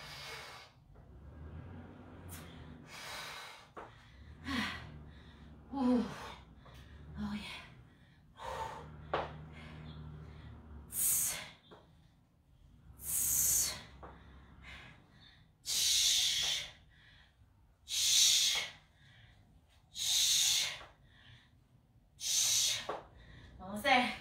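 Heavy, rhythmic breathing after a boxing workout for weight loss, loud bursts of exhaled breath repeating roughly every two seconds, with some talking mixed in during the first half.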